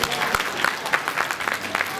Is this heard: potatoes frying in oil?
no